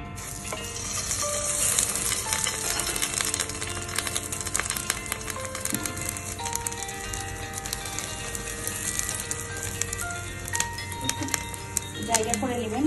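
Whipped egg foam is poured into hot oil in a pan and fries with a steady, dense crackling sizzle that continues loud and close for the whole stretch without a break.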